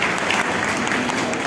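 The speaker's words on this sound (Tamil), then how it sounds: "இன்னும் ஒரு பலத்த கைத்தட்டல் கொடுத்து அவளை உற்சாகப்படுத்துவோம்" An audience claps loudly and continuously, a dense, even wash of applause with no pauses.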